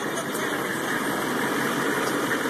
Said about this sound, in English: you gotta get down by the exhaust, man. I'm gonna rev it up.